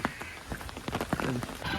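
Rain falls steadily in a village during a storm, a dense patter of drops on surfaces with a few sharper splashes. It is heard up close for a brief stretch with no voices.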